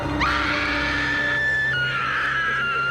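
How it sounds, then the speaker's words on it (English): A woman's loud, sustained scream, rising sharply and then holding a high pitch for nearly three seconds, from a 1999 slasher film School's Out. "Why are you screaming like you know who this dude is?"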